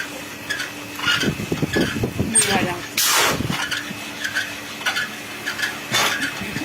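Rice grains rattle and hiss as they are stirred through hot sand in a wok to make puffed rice, with scraping and clattering bursts; a person talks over the roasting.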